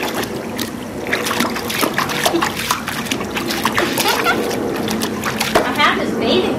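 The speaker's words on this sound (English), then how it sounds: "You just want to get in there and splash." A child splashes in water outdoors, with repeated splatters and sloshing close by, continuous and fairly loud throughout.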